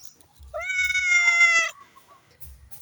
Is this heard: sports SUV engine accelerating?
no